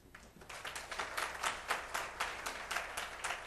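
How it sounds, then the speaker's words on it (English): Audience at a conference session giving a round of applause for the participants, a moderate steady clapping from a crowd that holds even throughout. "Please join me in a round of applause when the participants are introduced."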